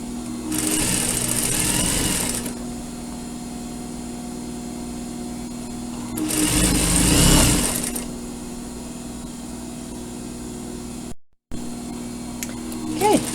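A sewing machine stitches surgical scrub caps in two loud bursts of rapid whirring, separated by a quieter steady hum, ending in a short pause and a few small clicks.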